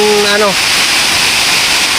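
Floodwater rushing through a stream after Typhoon Maymay makes a loud, constant broadband roar close by. A voice cuts in briefly at the start, then the torrent continues alone.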